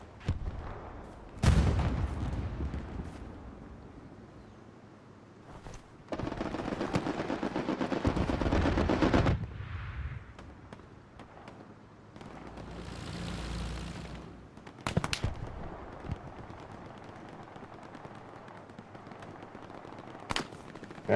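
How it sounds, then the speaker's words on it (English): Heavy strafing-run gunfire in the World War II shooter Hell Let Loose: loud, booming automatic bursts hit in separate waves, with a long sustained barrage in the middle and sharp single cracks, over a low rumbling battlefield bed. "Strafing run inbound,"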